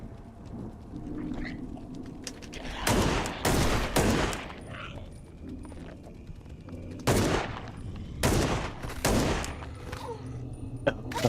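Gunshots in a horror video game, several loud sharp blasts in clusters separated by quieter stretches of running and ambient tension, fired close and alone without talk.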